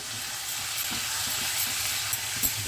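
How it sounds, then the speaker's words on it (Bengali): Bottle gourd curry with sugar and green chillies stirred in a hot pan, a steady close sizzle with soft scraping of the spoon throughout, no talking. "ভালো করে নেড়ে দিই।"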